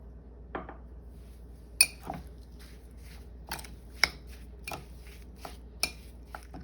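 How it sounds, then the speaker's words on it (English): Fresh strawberries being mixed with sugar in a bowl give off sparse, quiet clinks and taps from the utensil against the dish, a few seconds apart, with no talking. "next I'm going to be mixing in some sugar into my strawberry"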